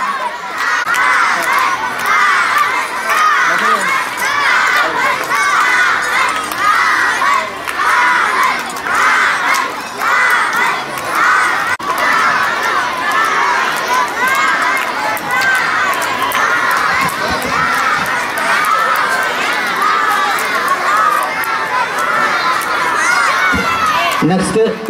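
A large crowd of schoolchildren at a school sports day cheers and shouts for their teams, loud and continuous for the whole stretch, with rhythmic bursts of chanting rising and falling.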